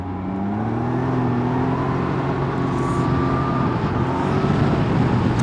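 A Can-Am Ryker three-wheeled motorcycle pulls away from a start, its engine note climbing steadily and loudly in a continuous rising whine, heard close and alone.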